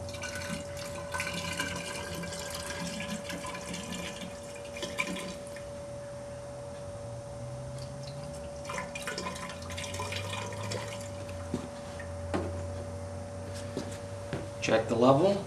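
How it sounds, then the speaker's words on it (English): Sodium hydroxide solution poured into an electrolyser tank, a steady trickle with drips and splashes, accompanied by a constant mechanical hum and occasional speech. "Now I'm going to be filling the side that holds the sodium hydroxide chemical."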